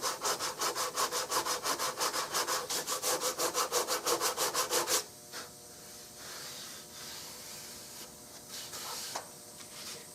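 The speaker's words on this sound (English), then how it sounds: "As that gets sanded more and more," Rhythmic back-and-forth sanding strokes on a wooden Remington 788 rifle stock, loud and close for about five seconds, then stopping and leaving quieter rubbing and handling sounds.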